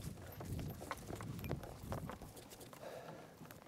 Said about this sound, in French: Lui, c'est Navra, c'est un cheval de trait.